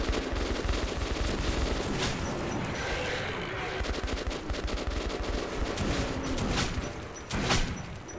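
Dense, sustained gunfire from allied fighters in Metro 2033 Redux, an underground post-apocalyptic shooter, with rapid bursts layered over a steady din for the whole stretch and sharper cracks near the end; a voice is faintly mixed in.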